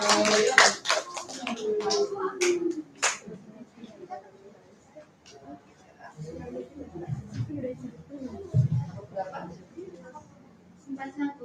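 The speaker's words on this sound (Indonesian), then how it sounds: "Ya, tepuk tangan untuk temanmu yang paling depan." A short burst of applause from a group of schoolchildren opens, followed by lively talking and chatter from several voices.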